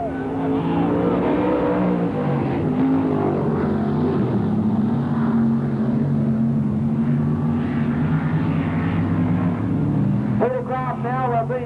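Sprint cars roar around the Parramatta City Raceway dirt track in a 1981/82 race, a loud continuous engine drone with shifting pitch and a commentator talking over it.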